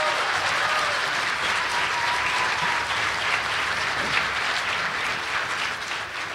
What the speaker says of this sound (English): how about a nice big round of applause for everybody that has performed tonight